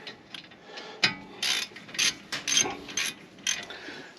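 A hand ratchet loosening 14 mm lug nuts on a truck wheel, with a series of short, sharp clicking bursts in an uneven rhythm, close up and clear, with no talking.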